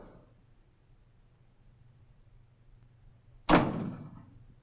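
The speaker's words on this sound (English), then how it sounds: "Close the door." A door in an Old West building swings shut with a single loud thud that rings out briefly against a quiet, hissy room, with no voices.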